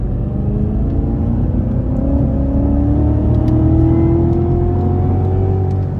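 A 2017 Cadillac CTS-V with a supercharged 6.2-litre engine accelerates hard, its engine note climbing steadily in pitch under a constant rumble and supercharger whir, heard from inside the cabin with no talking.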